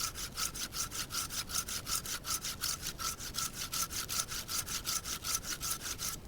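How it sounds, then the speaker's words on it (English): A Bahco Laplander folding saw cuts through wood in quick, even back-and-forth strokes, a steady rhythmic rasp heard close up with no talk. "I'm using my Baco Laplander. I absolutely love this saw."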